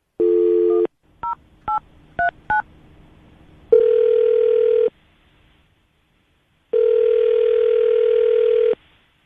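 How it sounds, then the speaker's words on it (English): A telephone call starts with a dial tone, then a quick series of touch-tone dialing beeps, followed by two long ringback tones separated by silence, all clear and close. "We're about to call John right now"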